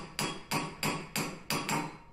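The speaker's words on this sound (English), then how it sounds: "The 101 beaker starts as a flat circle of silver and is gradually raised by repeated hammering over different shaped formers." A silversmith hammers a silver beaker as it is raised over a shaped metal former, five bright ringing metallic blows at a steady, even rhythm, close and clear with no talk.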